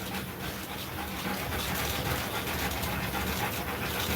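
A dog pants steadily and whimpers faintly through a constant hissing, watery background, close and at an even level throughout with no pauses.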